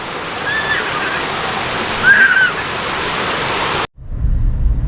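Katki Waterfalls in Araku Valley roar as a dense, loud, steady rush of falling water, close by, broken by a brief thin whistle, then cut off abruptly and replaced by a muffled low rumble.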